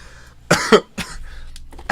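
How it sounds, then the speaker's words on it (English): A coughing fit: several harsh, close coughs in quick bursts with short gaps between them, loud and alone. "I'm coughing. I'm coughing up a storm."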